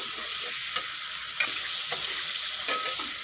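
Tomatoes fry with spices in a pan, a steady close sizzle punctuated by several soft clicks of stirring, heard alone without talk.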